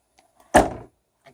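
A Chevy Avalanche truck door slams shut once, a single loud, close thud with a short decay, set between near-silent moments in an outdoor camping setup.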